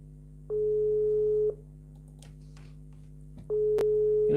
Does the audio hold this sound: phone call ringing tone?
yes